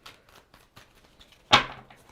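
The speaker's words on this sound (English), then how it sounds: "Give me two shuffles." A tarot card deck is shuffled in a quick riffle, a single short papery burst near the end after a stretch of faint rustling handling.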